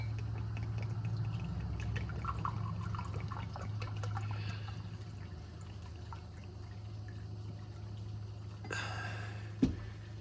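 Water is poured into an MRE pouch of halal saag chole with lamb, a faint steady trickle running under a low hum for most of the span, ending with a brief crinkle and a single sharp knock.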